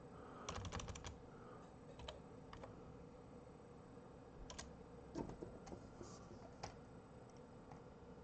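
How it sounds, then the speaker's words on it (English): Keystrokes on a computer keyboard in a workshop while an old-school Rockford Fosgate amplifier is prepared for bias adjustment. Scattered clusters of clicks come through a steady hum and background noise. "So type in a little something, Rockford."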